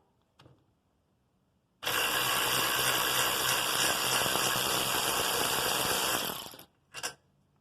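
A power torque wrench loosens a bolt in one sustained, loud mechanical whir of about five seconds that cuts off abruptly, followed by a short burst from the tool, with a faint tap at the start.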